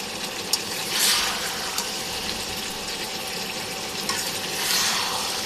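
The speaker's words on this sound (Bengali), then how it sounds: "যে মূলা কষাই নিতেছি, কি সুন্দর মূলা কষানো হয়ে গেছে।" Radish being sautéed in oil in a pan gives a steady, soft sizzling hiss with a few brief stirring scrapes and clicks, close by and with no talking.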